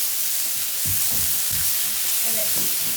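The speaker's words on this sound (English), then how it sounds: "I'm just going to give my veg a little stir." Vegetables for ratatouille sizzling and frying in a pan while being stirred, with a steady hiss and several soft scraping stir strokes close by.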